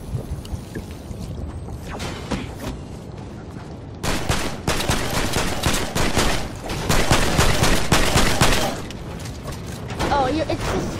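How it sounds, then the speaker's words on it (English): Rapid bursts of gunfire and mechanical clatter from a Fortnite match, loud and close, with a player's voice talking over the shots. "Oh, they're shooting."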